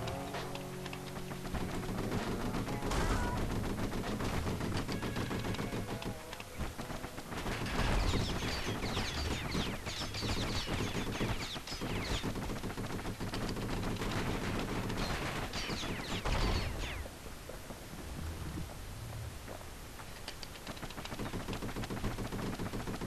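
Gunfire in the action game Bastion, an enemy firing over a shield: rapid, dense bursts of shots and impacts rattle on and off over a steady game soundtrack, loud and continuous.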